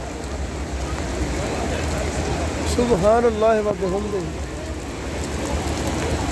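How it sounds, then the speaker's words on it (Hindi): Heavy rain pours steadily over the Haram in Mecca, a constant dense hiss throughout, with a voice briefly speaking over it midway. "हरम में ज़बरदस्त बारिश के नज़ारे"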